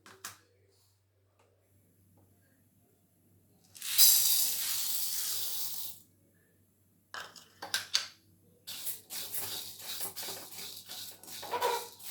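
Podi ingredients dry-roast in a pan, giving a steady sizzling hiss for a couple of seconds, then scattered crackles, scrapes and clinks of stirring against the metal, fairly quiet and intermittent.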